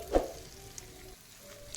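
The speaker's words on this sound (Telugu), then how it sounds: "ఇప్పుడు ఈ పోపుని సొరకాయ పచ్చడిలో వేసుకోవాలండి" A sharp hiss bursts out as a hot oil tempering is poured into bottle gourd chutney, then settles into a quieter, steady sizzle.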